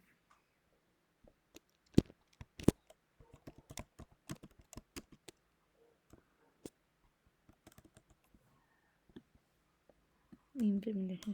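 Java code typed on a computer keyboard, producing scattered, close, crisp key taps in irregular bursts with quiet gaps between; a brief spoken word comes near the end.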